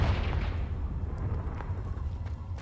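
A Confringo fire spell explodes in Hogwarts Legacy, a dense booming blast with rumbling low end that sustains for a couple of seconds, loud and close, with crackling bursts on top and no talk.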